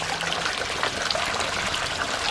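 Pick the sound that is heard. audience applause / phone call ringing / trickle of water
trickle of water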